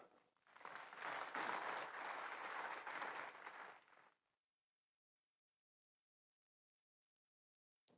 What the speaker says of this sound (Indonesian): Boleh kalau mau tepuk tangan.